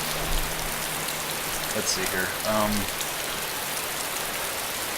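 Rain falls steadily in the survival game DayZ, a constant hiss of drops on surfaces throughout, while someone speaks briefly over it.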